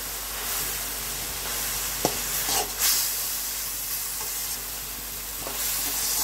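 Chichinga (snake gourd) bhaji frying with fried onion, garlic and dried chili hisses in a pan, a continuous close sizzle with intermittent scraping and clacks of a spatula stirring the mix.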